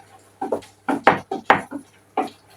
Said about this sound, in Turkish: Sonra pırasalarımı küçük küçük doğradım.